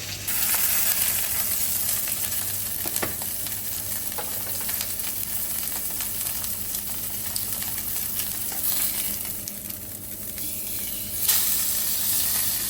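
Meat sears on a hot pan held down by a press, giving a steady, dense sizzle and hiss close by, with a few faint clicks and a brief knock near the end.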